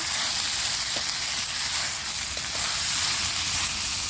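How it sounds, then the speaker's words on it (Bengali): Food frying in a pan on a rooftop in sunshine, a steady broadband sizzle that holds loud and even throughout, with a few faint clicks and no talking. "এভাবে আমি 1 মিনিট ভেজে নিব, অত বেশি ভাজতে হবে না, মাত্র 1 মিনিটের মতো ভেজে নিব"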